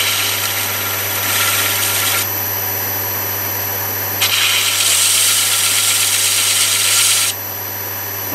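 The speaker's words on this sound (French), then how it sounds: "je vais juste donner un petit coup de ponçage dessus" A lathe spins a turned wooden piece while it is sanded, with a loud, constant motor hum and two longer bursts of bright abrasive hiss as the sandpaper presses against the wood.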